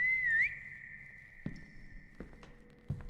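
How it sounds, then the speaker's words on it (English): A person whistles a single sustained, slightly wavering note that holds steady for a few seconds, close and clear, with a few soft thuds or footsteps behind it. "I'm gonna whistle again."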